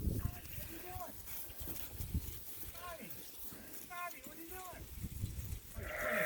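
Rams bleat and call while playing in a farm pen, several short wavering bleats scattered through steady background noise; a person talks nearby between the calls.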